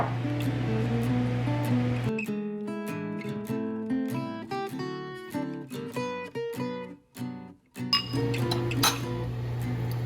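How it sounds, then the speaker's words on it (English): A utensil works stiff haupia coconut pudding in a bowl, producing irregular clinks and scraping knocks in quick bursts, between stretches of a steady low hum. "How do you mix this? you just have to, you just muscle it."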